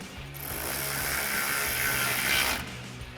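A screw being driven in during a headlight installation, a power driver whirring steadily for about two seconds with a faint ratcheting clatter underneath, close up and without speech.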